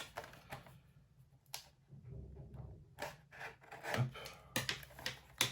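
Scissors snip and rasp through the plastic packaging of a Yu-Gi-Oh starter deck, a series of close crinkling cuts and scrapes, irregular and fairly quiet, with one short spoken word.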